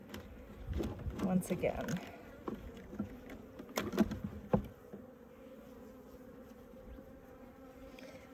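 Honey bees from a weak, robbed-out removal colony buzz in scattered close passes near the hive, loudest early on before thinning to a faint hum; a person speaks briefly.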